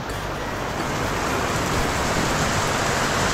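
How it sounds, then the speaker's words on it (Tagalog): Heavy rain pours down at an outdoor work site, a dense, loud, continuous rushing hiss that fills the whole clip with no voices. "Bumuhos na, malakas na ulan."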